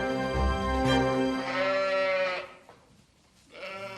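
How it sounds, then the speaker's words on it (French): Ewes on a French sheep farm with a flock of about 100 bleat in a few loud, close, wavering cries that overlap, then fall quiet briefly before another bleat begins. "L'élevage de Flora compte 100 brebis"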